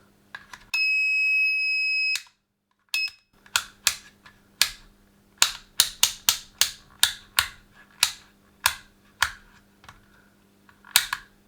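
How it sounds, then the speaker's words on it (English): A faulty Draper DMM200 multimeter emits a shrill continuity beep for over a second, then a long series of irregular plastic clicks and taps from its buttons and probes over a low electrical hum. "the beep function's working, apart from it thinks it's continuously on"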